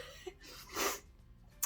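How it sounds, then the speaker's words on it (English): A single sneeze burst from a woman who has hay fever, sniffing perfume samples at close range, indoors; one short loud explosive release with a breathy tail and a faint snort at the end. "Achoo!"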